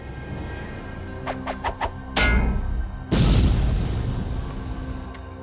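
A grenade blast during the Battle of Kursk near a Soviet T-34 tank: a few light clicks, then a sudden loud boom with a rumbling tail, followed by a second, heavier explosion that roars and slowly fades.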